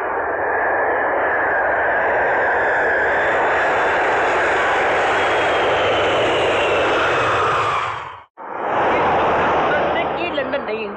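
A loud, close propeller aircraft engine drones steadily as the plane flies and comes in to land, cutting out abruptly for a moment near the end before roaring again, with no talking over it.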